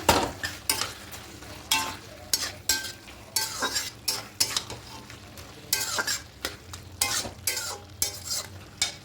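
A paste of mustard, poppy seed and green chili with a little sugar is stirred into prawns and spinach cooking with potato, a spoon scraping the pan in regular strokes over a low sizzle, close and alone.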